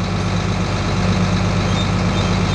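A John Deere 4640 tractor's diesel engine rumbles loud and close, holding a steady heavy idle as the clutch is slowly let out, with no voices.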